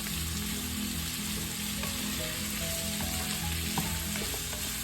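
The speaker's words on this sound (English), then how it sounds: "We sangkutsa the pork." Pork sangkutsa cooks in a pan over medium heat, giving a continuous even sizzle with a few faint clinks and scrapes, with no voices.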